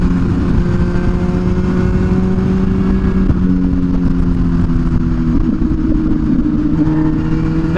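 An MV Agusta SV 1000 Oro motorcycle being ridden through a canyon, its engine holding a steady, loud droning hum throughout with slight pitch shifts as the revs change.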